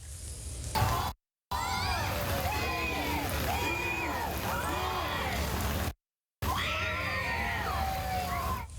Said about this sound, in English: Those screams are from students excited about STEM.